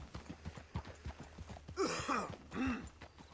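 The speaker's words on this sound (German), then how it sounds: "das Pferd will doch noch mal ein paar Schritte laufen" Horse hooves clip-clop at a steady walking pace on the ground in the video game Red Dead Redemption 2, close and clear, with a couple of brief snorts from the horse near the end.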